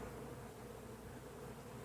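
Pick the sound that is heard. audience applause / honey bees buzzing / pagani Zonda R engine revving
honey bees buzzing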